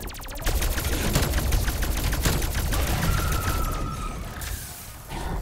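Rapid AK-74u gunfire from Call of Duty Cold War Zombies, dense bursts of automatic shots running nearly continuously and loud, with a brief high electronic tone partway through and no talk.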